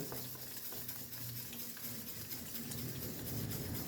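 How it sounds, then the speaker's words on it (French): Eggs, flour and milk are whisked together into crêpe batter in a bowl, giving a steady, continuous wet stirring and scraping that runs close and even throughout, with no voices. "tout doucement on mélange en agrandissant le cercle, et au fur et à mesure on vient verser notre lait"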